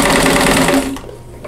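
A sewing machine stitches quilt block pieces together in a steady, rapid mechanical whir for about a second, then stops, leaving quiet handling sounds.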